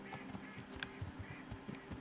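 Horse hooves clip-clop in the medieval video game Kingdom Come Deliverance, a steady soft rhythm of muffled steps under faint ambient game sound.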